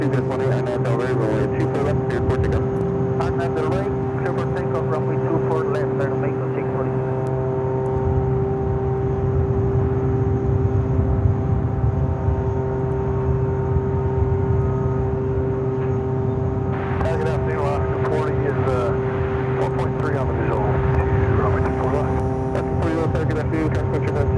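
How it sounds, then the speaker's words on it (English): An Aeromexico Boeing Dreamliner jet at LAX gives off a sustained, steady engine hum and whine with strong tonal lines, continuous and fairly close throughout, with some clicking and mechanical noise on top. "Air Mexico, the Dreamliner heading back to Mexico City."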